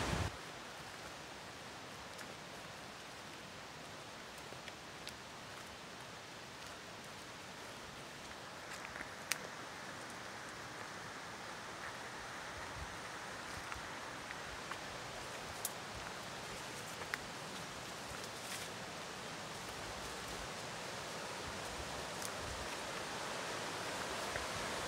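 Small creek water rushing steadily into a river, a constant broadband hiss and wash with occasional faint splashes and ticks, close and unbroken throughout.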